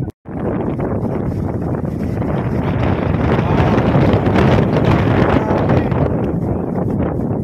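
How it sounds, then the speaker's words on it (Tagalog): Strong wind gusts across an open hillside windmill farm, buffeting the microphone with a loud, continuous roaring rumble that swells slightly midway. "Ibang klase hangin."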